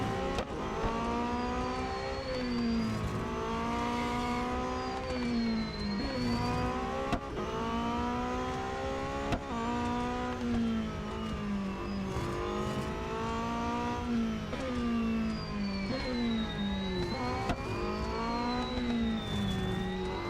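Several race car engines in Real Racing 3 drone loudly and steadily, their pitch rising through repeated upshifts and dipping at braking, with a faint higher whine of other cars mixed in.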